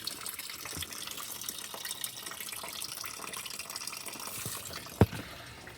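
Coolant draining out of a Ford Grand Marquis 4.6 engine during a water pump replacement makes a soft, steady trickle and splash of liquid, faint and continuous, with one sharp clunk near the end.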